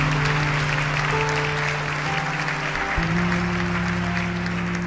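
A church congregation at a baptism service applauds in a sustained, even patter of clapping, heard over a steady low organ or keyboard drone that holds and then shifts pitch partway through.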